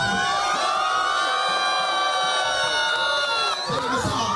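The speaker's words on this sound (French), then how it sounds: "Je veux entendre des cris de tonnerre et des cris de joie." A church congregation shouting and cheering together, a loud sustained roar of many voices with high whoops and cries of joy rising above it.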